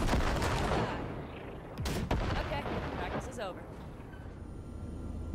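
Heavy weapon fire in the video game Cyberpunk 2077, a loud dense barrage of booming shots and blasts at the start, easing into a rumbling wash, with players talking over it.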